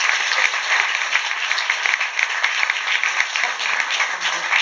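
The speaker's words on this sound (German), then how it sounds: "richtigen Applaus zu machen, das ist genau das, was ihr gerade gemacht habt" Audience applause at a German youth media festival award ceremony in Dresden, dense steady clapping from a crowd filling the whole stretch at an even level, with no one speaking over it.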